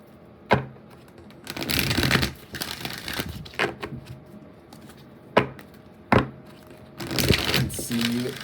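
Oracle cards being shuffled by hand, bursts of papery riffling and crinkling broken by sharp slaps and taps, close and fairly quiet, stopping and starting in irregular spurts.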